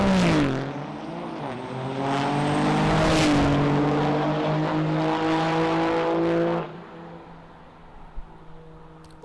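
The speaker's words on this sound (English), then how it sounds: "Like that throaty sound that Caraway's D150 put out." A 1986 Dodge D150 drag truck at a drag race revs loud and close with a throaty, steady engine roar that holds and slightly rises, then drops away to a lower idle rumble after several seconds.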